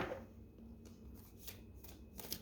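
A deck of tarot cards shuffled by hand during a reading, a close, crisp riffling flutter in several quick bursts over a couple of seconds, with no voices.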